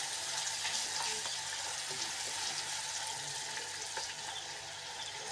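Dried red chillies and a bay leaf fry in hot oil in a pan with a soft, continuous sizzling hiss, faint and even throughout.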